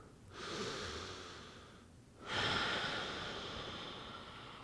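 Two slow, audible breaths drawn in and pushed out through the nose during a power yoga routine, close and soft, the second breath stronger than the first.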